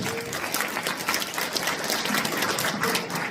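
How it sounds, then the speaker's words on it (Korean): Audience applause for a sponsorship committee chair at a Korean National Assembly member's 2025 legislative report meeting, steady dense clapping from a crowded hall throughout, with no speech over it. "박수 한번 보내주세요."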